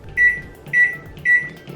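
A Samsung MS23F301TAW solo microwave oven runs with a low hum, while a clear electronic tone repeats about every half second.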